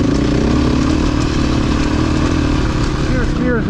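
A Honda Africa Twin motorcycle rides a mountain trail toward a summit, its engine loud and close in a continuous throaty rumble with some mechanical clatter, while a voice is partly audible under it.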